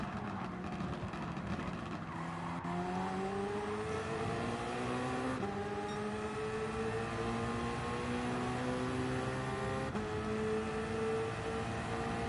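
A race car in Gran Turismo 7 at the Mulsanne chicanes, a steady loud engine drone with sliding harmonic pitch changes as it brakes and downshifts, joined by other engines nearby.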